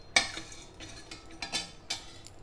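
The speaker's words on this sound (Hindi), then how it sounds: "थोड़ा हम भून लेंगे हल्का ब्राउन हमें भूनना है उससे ज़्यादा नहीं भूनना है" Chana dal and peanuts roasting in a pan, close scraping and light clinks of a spoon stirring against metal in a few quick strokes over a faint background, no voices.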